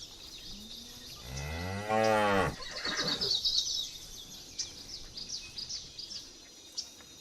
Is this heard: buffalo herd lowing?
yes